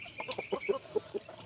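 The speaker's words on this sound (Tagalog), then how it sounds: "Ito nga pala yung Burmese natin na hen," A Burmese hen gives a quick run of soft, short clucks in a backyard, about six in a row, fairly faint and close.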